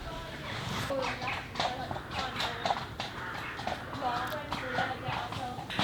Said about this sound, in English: Can you hear the horses?